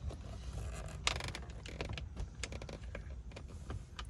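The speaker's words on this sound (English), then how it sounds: "So let's take our screws out so we don't lose them." Screws taken out of the center console of a 2021 Honda Pilot: a run of small close clicks, creaks and ticks from the plastic trim and hardware, irregular and fairly quiet.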